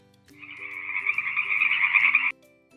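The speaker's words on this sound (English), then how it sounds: "I am a frog." A frog gives one long, rasping croak lasting about two seconds, loud and close over soft, plinking background music that continues after it stops.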